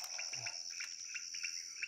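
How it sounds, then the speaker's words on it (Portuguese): Frogs croak at night out in nature: a steady high trilling chorus with short pulsed calls repeating close by over quiet darkness, and no voices. "olha o som das rãs"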